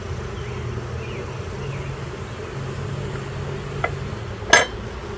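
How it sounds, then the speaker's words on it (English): Honeybees pour out of an open hive in a struggling colony, making a steady low buzzing drone throughout, with a brief sharp clink near the end. "The bees are coming out of here."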